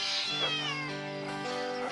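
Cartoon kitten meowing, a single drawn-out high, wavering meow followed by a shorter second cry, close and clear with no talk.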